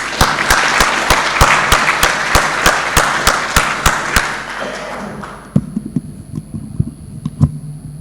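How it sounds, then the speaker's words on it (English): Audience applause for a panel of conference speakers: loud, dense clapping for about five seconds, then it breaks off into scattered claps, thumps and room noise. "all our speakers, one more round of applause"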